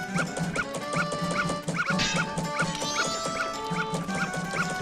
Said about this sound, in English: The dogs don't like Dekus for some reason.